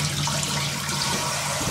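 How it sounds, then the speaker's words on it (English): Tap water runs steadily over potatoes being rinsed in a kitchen sink, a continuous close splashing rush with no talking. "But we'll give them a little rinse."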